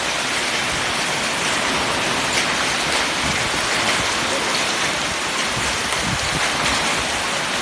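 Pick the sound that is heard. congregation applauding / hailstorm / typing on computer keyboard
hailstorm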